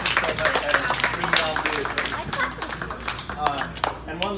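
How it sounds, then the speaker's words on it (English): A round of applause for a player at a youth team's spring season celebration, with steady clapping from a group running under excited voices and chatter for several seconds. "So if you guys would give a round of applause to Evan with me."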